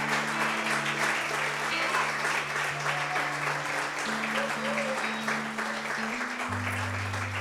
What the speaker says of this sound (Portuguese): Você consegue dar uma salva de palmas ao Senhor?